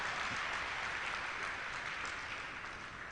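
An audience claps steadily through a university inaugural lecture after the lecturer is introduced, the dense applause holding loud and even before tapering slightly toward the end.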